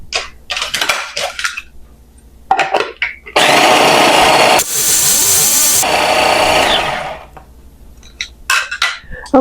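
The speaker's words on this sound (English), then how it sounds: "And I'll blend that together." A blender mixes keto brownie batter of cottage cheese, vanilla essence and other wet ingredients, running loud and steady for about two and a half seconds, briefly pausing, then whirring again, with kitchen clatter and handling noises before and after.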